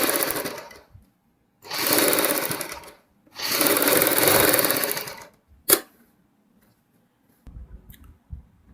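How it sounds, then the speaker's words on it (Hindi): Sewing machine running in two long bursts while double-stitching a kurti neckline, each run steady and close, followed by a sharp click and a few short, quieter whirs. "अब हम इसके ऊपर डबल सिलाई लगाएंगे।"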